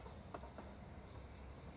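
Train ride in the video game Persona 3 Reload, a steady low rumble of a rail car with faint rhythmic clatter running continuously, with no talk.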